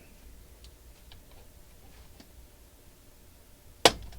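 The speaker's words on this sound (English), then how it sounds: "Both those kind of snapping in place." Plastic parts of a 1/8 scale Toyota Sprinter Trueno AE86 model kit click into place, a faint tick followed by one sharp, close snap near the end in a quiet room.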